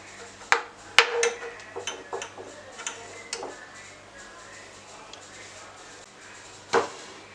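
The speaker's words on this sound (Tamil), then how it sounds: "இத அப்படியே வந்து மூடி வச்சிருங்க." A lid goes onto a pan of chocolate truffle sauce in a kitchen, giving a few sharp metallic clicks and clinks, one last clank near the end, and a quiet hum in the background.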